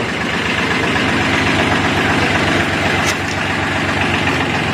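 A Kubota L2000 tractor's diesel engine idles loud and near, a steady low chugging rumble with a rhythmic pulse that stays constant throughout, with a faint metallic tick partway through.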